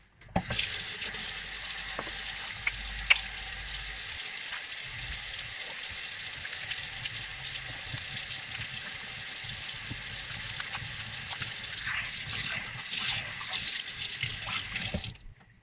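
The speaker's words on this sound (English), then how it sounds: "the first thing we need to do, wash our hands" Tap water runs steadily into a kitchen sink while hands are washed before cooking, a constant close rushing splash that holds for about fifteen seconds and then stops abruptly.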